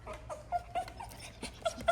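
A puppy whimpering at its own reflection in a window, faint soft whines and yips coming in short bursts with breathy pauses, fairly close by and quiet, with no talking.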